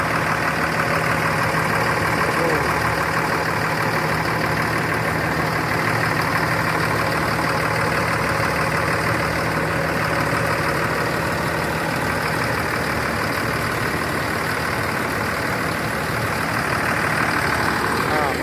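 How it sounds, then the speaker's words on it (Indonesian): A truck engine idles steadily and continuously at close range, a low droning rumble with a constant hum and no pauses. "mesin hidup kembali."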